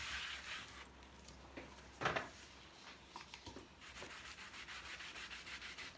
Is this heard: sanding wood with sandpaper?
yes